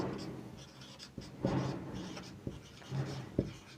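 Writing strokes on a board during a Hindi-language class lesson on the physical properties of metals, heard as quiet scratchy taps and scrapes in irregular bursts over a faint room background.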